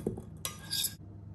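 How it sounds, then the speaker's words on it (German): Butter-and-chocolate mix stirred into chocolate lava cake batter in a bowl, a short close burst of utensil scraping and clinking against the dish, alone with no voices. "Wie schon erwähnt, wurde die Masse nochmal schön verrührt"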